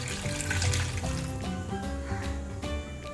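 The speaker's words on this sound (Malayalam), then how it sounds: "ഇനി നമ്മൾ എടുത്തു വെച്ചിരുന്ന തേങ്ങാപ്പാൽ ചേർത്ത് കൊടുക്കാം" Coconut milk poured into a blender jar for a keto juice, a steady close liquid gurgle and splash running the whole time at moderate loudness, with no voices.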